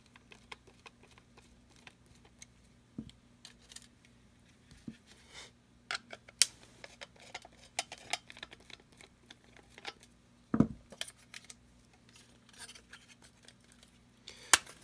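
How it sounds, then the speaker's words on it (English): Screws being backed out of a smoke-damaged Sega Dreamcast console, close and quiet: small scattered clicks and ticks of a screwdriver turning, with a few sharper clacks over a steady low hum. "So we're going to take these screws off."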